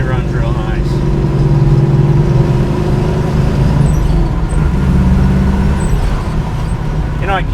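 A 1972 Chevrolet Nova with a 350 four-barrel V8 idles and runs in a deep, steady, loud rumble that holds throughout, with someone talking over it.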